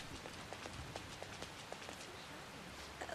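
Steady rain falls in the Persona 5 game, a soft, even patter with faint scattered drops throughout, no voices present.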